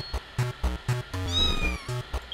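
A cartoon cat in a clumsy-paws video game meows repeatedly in short, rhythmic bursts, with a longer drawn-out wail in the middle, close and clear with no talk.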